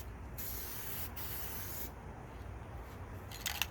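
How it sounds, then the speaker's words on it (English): Spray paint hisses from an aerosol can onto a plastic car door panel in steady, close passes with short breaks between them, and a few faint clicks at the end. "whenever you're spraying, you're trying to go across the whole panel"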